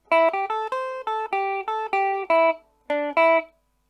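Clean electric guitar picks out a quick rockabilly run of bright plucked notes, crisp and close, ending with a pause and two final notes.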